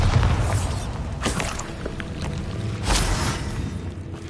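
A Bombarda blast spell cast in Hogwarts Legacy lands as a couple of booming explosive bursts over a dense rumbling bed of game noise and ambience, loud and close.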